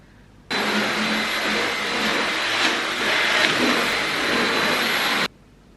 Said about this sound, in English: so I'm going to vacuum